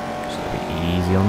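A Chevy race car engine roars in Forza Motorsport 4, a loud steady drone rising in pitch toward the end as the car accelerates, with a commentator talking over it.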